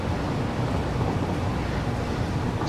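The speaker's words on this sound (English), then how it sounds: "Is that all waterfall in the distance there?" A distant waterfall in the video game Satisfactory gives a steady, even broadband rush with no distinct events, heard alone without speech.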